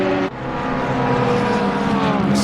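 GT3 race cars in Assetto Corsa Competizione at Kyalami roar past in a close overtake, with one steady, loud engine drone that briefly dips and then holds a strained, rising note.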